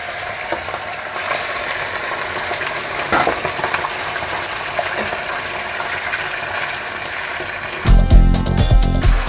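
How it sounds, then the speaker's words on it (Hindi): Camel meat dropped into hot oil with cinnamon pieces and cloves, a loud, dense, continuous sizzle close up, with a burst of heavier crackling and stirring near the end and no talking. "अब हम इसमें मीट डाल देंगे"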